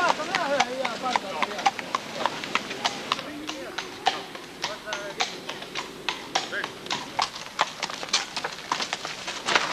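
Hooves of a horse at a staged village wedding in Põltsamaa in 1995 clop steadily on hard ground in a quick, even walking rhythm, close and clear, with people talking faintly in the background.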